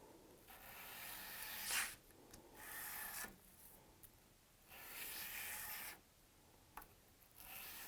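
Broadhead strokes on 1,000 grit sandpaper, a series of soft, even rasping passes, each about a second long, separated by short pauses, close and faint.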